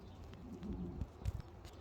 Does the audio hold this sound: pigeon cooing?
yes